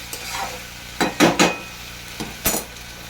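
Cumin and coriander spice paste sizzles softly in a pan and is stirred in a few close, uneven scraping bursts, with quiet gaps between strokes and no talk.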